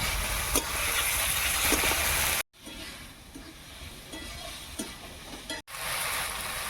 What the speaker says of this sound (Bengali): পেঁয়াজ আর মাংস দুটোই ভাজা ভাজা হয়ে গেছে। এর উপরে আমি মশলাগুলোকে দিয়ে দেবো।